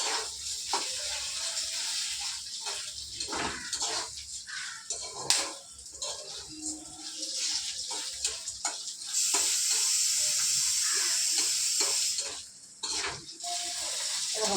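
Lentils frying in a pan for dal, a steady hiss of sizzling broken by occasional stirring scrapes, with a brighter, louder stretch of sizzle toward the end.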